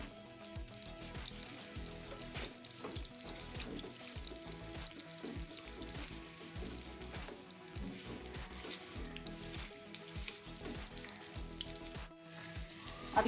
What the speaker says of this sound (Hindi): एक पैन में ऑयल गरम करें और ये मसाला इसमें डालकर